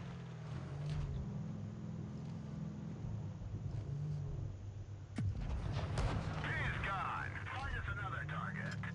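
Tank cannon firing APCR rounds in WoT Blitz, driving a PzKpfw 38(t) n.A, with a single sharp shot standing out over a constant engine rumble and game noise while a voice talks over it.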